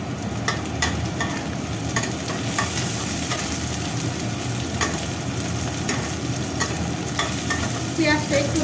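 Onions fry in hot oil in a pan, a steady, loud sizzle running throughout, with light scraping and clicking from stirring.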